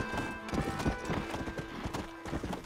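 Horse hooves clip-clop steadily in the Western video game Red Dead Redemption, a continuous rhythm of close, moderately loud hoof strikes with a brief whinny-like tone in the background.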